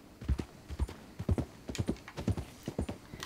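Horse hooves clip-clop in the video game Red Dead Redemption 2, a steady quick rhythm of paired thuds at a moderate distance, with no voices over them.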